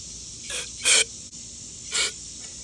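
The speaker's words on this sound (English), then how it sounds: "I'm gonna take some carb cleaner. We're gonna spray it right down in the carb and see if that helps." Carb cleaner sprays into the carburetor of a Briggs & Stratton EX 675 lawn mower engine in three short hissing bursts, the second loudest, over a quiet background.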